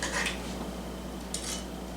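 Cooked pork chops are set into a dish, giving two brief clinks and scrapes of metal utensils against the dish over a low steady background hum, with no talking.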